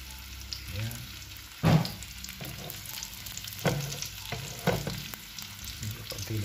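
Chicken fries in a little oil, giving a close, continuous sizzle broken by a few louder scraping stirs, with a faint voice briefly in the background.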